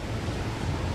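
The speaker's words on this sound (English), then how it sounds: "155-kilometer-an-hour winds push water up on shore." Hurricane Dorian's winds and surf, a dense, steady roar of wind and crashing water with heavy low rumble and no clear breaks, loud and continuous throughout.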